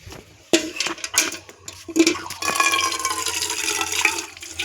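Water pours into a container, first in clattering splashes and knocks, then settling into a steady, rising gush of filling liquid.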